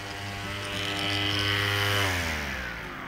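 Bosch electric grass trimmer running at a flea market, a steady close buzzing motor whine that swells slightly in pitch and loudness before easing off, heard alone for about three seconds.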